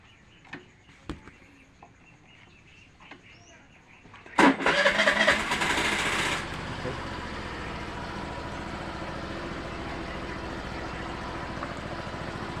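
A Suzuki Burgman Street 125 scooter engine starts with a loud burst of cranking, then settles into a steady, even idle that carries on close by; a few faint clicks come before the start.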